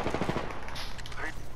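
Incoming automatic gunfire in Apex Legends, a fast rattling burst of shots up close at the start, fading to scattered pops under game sounds.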